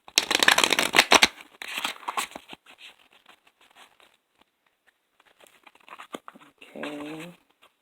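A tarot deck is shuffled in quick riffling bursts, followed by sparse handling taps and a second brief shuffle near the end.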